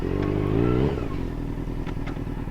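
A Kawasaki Mach III 500cc two-stroke motorcycle engine revs up close, its buzzing tone climbing briefly, then dropping back to a rough, crackling idle.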